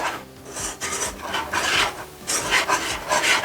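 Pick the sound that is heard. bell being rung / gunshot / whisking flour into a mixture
whisking flour into a mixture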